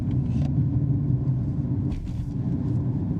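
A Suzuki Fronx SUV rolls over bumps during a suspension test, giving a steady, loud low rumble of road and cabin noise with brief thumps and rattles on top, no voices.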